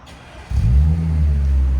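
A 2015 Audi S5 with a 3.0L supercharged V6 and an ECS cat-back exhaust barks into a loud, deep rev that holds at a steady roar, close up and alone.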